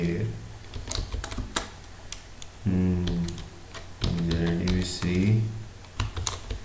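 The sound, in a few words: typing code on a computer keyboard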